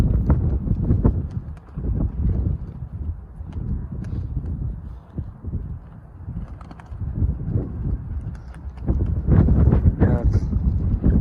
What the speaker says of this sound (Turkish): Hafif de rüzgar çıktı ama.